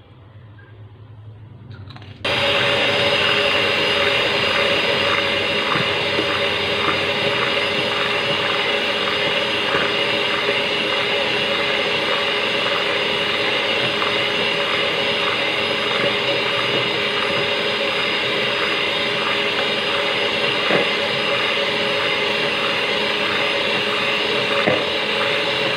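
An electric beater starts abruptly and whips cream with a steady, loud, unbroken whir that holds its pitch for about twenty seconds at close range, with no voices.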